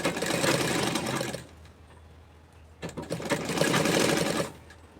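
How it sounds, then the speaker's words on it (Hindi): A sewing machine stitches a shoulder strip of fabric, two loud, close bursts of fast mechanical whirring separated by a short quiet pause. "ऐसा ऐसा रखेंगे हम और सिलाई लगा देंगे।"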